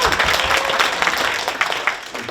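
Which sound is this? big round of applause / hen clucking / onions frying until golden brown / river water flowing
big round of applause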